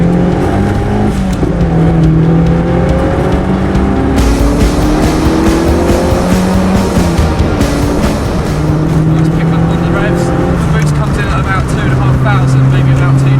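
A Fiat Cinquecento Turbo drives along country roads, its engine droning steadily with rising and falling revs and gear changes, loud and close from inside the car, with someone talking over it.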